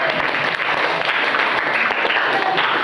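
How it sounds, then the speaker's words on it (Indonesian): A classroom group claps together in steady, dense applause throughout, close and fairly loud, with no voices standing out. "Ya, tepuk tangan untuk kita semua."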